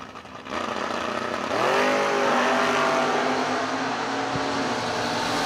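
A third-generation Camaro and an S10 pickup drag racing at a grudge-style strip, engines roaring loud and close, revving up then holding a sustained high-pitched wail as they launch down the track.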